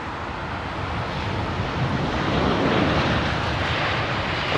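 A new airliner operating for Qatar on runway 27R at Heathrow Airport gives a continuous wide jet roar that swells slightly toward the middle, heard from a distance with some wind on the microphone.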